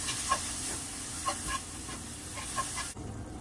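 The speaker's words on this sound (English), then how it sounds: "Y'all hear it sizzling" Seasoning sizzles in a pot for homemade potato soup with bell peppers, a faint, steady hiss with occasional soft pops and crackles.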